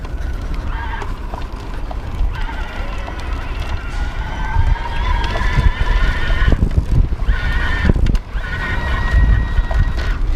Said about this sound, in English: when you are on such a quiet bike, you start to notice the whining a little bit more